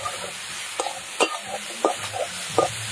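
Cauliflower with salt, turmeric and crushed ginger and green chili is stirred in a pan, a spatula scraping in several distinct strokes over a soft sizzle, with no talking.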